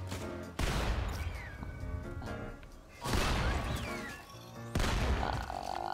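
Gunfire in Fortnite comes in three loud, close bursts spaced a couple of seconds apart, each decaying into a ringing tail over a faint musical tone.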